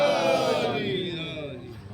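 A crowd at a religious gathering chants slogans in unison, a loud massed roar of voices that swells and then fades over two seconds.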